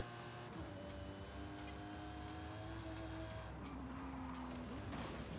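A car in Forza Horizon 5 driving through a forest, a steady engine drone with rising and falling gear tones and some tire noise, moderately loud with no talk.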